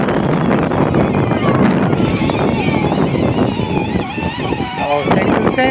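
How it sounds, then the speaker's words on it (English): Strong, cold wind buffets the microphone with a loud, continuous rumble while riding a John Deere lawn mower outdoors, and the mower's engine drones underneath the whole time. "Wind's blowing pretty hard."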